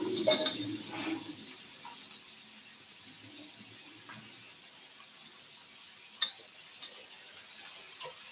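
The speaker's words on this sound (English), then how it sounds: "We have sizzle." A faint, steady sizzling hiss of oil in a pan while cooking a lentil salad, with a few sharp clinks of utensils now and then.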